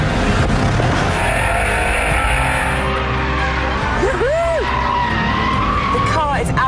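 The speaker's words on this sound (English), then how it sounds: "The car is absolutely coming alive on the racing circuit." BMW M5 F10 pushed hard around a twisty racing circuit in southern France, its engine roaring loud and steady up close, with a brief tire squeal in the middle and a voice talking over it.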